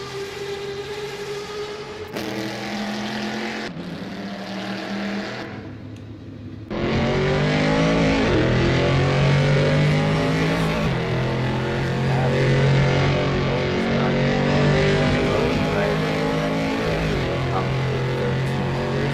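1960s-era race car engines roar in a sim racing game, loud and continuous with shifting revs and gear changes, rising sharply in intensity partway through as the cars power-slide through corners.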